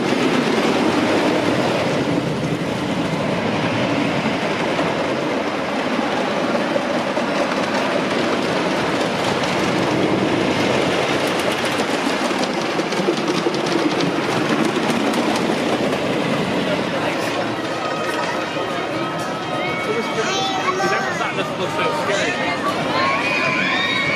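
A classic roller coaster train at Kennywood amusement park runs continuously and loud, a dense rumbling clatter of wheels on track with riders' crowd noise and shouts mixed throughout, close up from on board.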